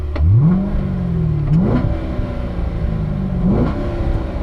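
Car engine blipping in repeated throttle revs during heel-toe downshifts at the Spring Mountain track, three quick rising rev surges over a steady loud engine drone.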